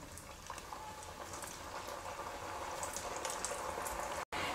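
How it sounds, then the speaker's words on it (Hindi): Four potato rolls fry in hot oil in a kadhai over a medium flame, giving a steady, dense bubbling sizzle that holds at an even level throughout, with only a brief dropout near the end. "तेल गरम हो गया है तो अब इसमें हम तैयार किए हुए रोल्स को डालेंगे।"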